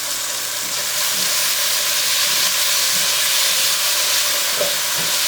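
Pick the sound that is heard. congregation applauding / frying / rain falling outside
frying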